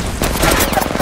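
Rapid, dense gunfire in the mobile shooter Apex Legends Mobile, close and loud, with overlapping shots rattling continuously with no gaps.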